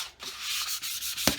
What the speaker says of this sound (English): I'll give it a good rough sanding